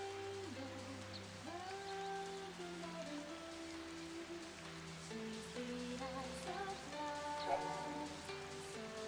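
Steady rain patters across the scene in Final Fantasy XIII, a soft continuous wash beneath sustained game music tones, with no voices.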